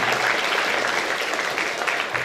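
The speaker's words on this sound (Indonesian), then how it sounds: "Tepuk tangan dulu buat temenmu." Applause from a school orientation audience honoring a classmate, a steady dense clatter of many hands held at an even level for a couple of seconds with no voices over it.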